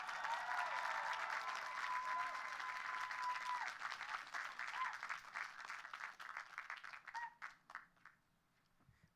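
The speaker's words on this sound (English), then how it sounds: "Give him another round of applause." Graduation ceremony audience applause for the class of 2022 after a commencement speech, a broad crowd clapping that holds steady, then thins into scattered individual claps and fades out.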